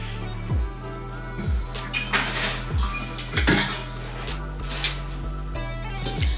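Metal pots and vessels clatter and clank close by as a pan is set down in a home kitchen, several sharp ringing knocks spread over a few seconds with no talking.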